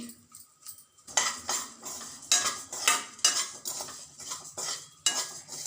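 A metal spoon scrapes and clinks steadily against a pan as coriander seeds are dry-roasted on the stove, repeated stirring strokes close up with no talk.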